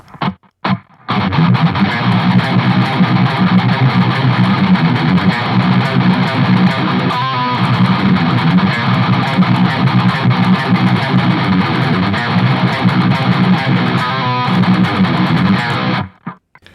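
A distorted electric guitar plays a continuous, driving riff, loud and steady, with brief gaps at the start and end.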